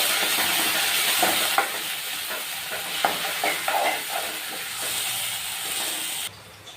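Onions sizzling and frying in a pan with coriander and ginger-garlic paste for a mushroom fry, with a steady close hiss, scattered crackles and stirring scrapes that stop abruptly near the end.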